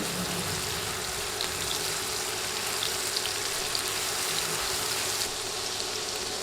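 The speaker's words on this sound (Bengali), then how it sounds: "এক টেবিল চামচ রসুন বাটা দিয়ে তেলে ভেজে নিব" Garlic paste frying in oil in a pan for a bitter gourd and prawn stir-fry, giving a steady, dense, close sizzle that holds evenly throughout with no talk over it.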